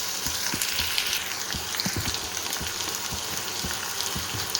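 Garlic pepper rice ingredients fry in a pan, giving a loud, continuous sizzle broken by frequent crackling pops and stirring taps.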